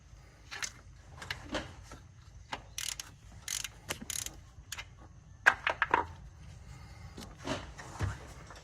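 A hand ratchet clicks in short irregular bursts while loosening alternator bolts on a Toyota Tacoma, close up and fairly quiet, with no talking.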